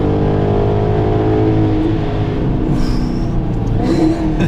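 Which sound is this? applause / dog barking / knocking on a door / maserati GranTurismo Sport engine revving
maserati GranTurismo Sport engine revving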